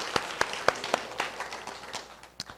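Church congregation applauding during a Sunday worship service: a run of distinct sharp claps, roughly evenly spaced, fairly faint and a little distant, with no talk over them.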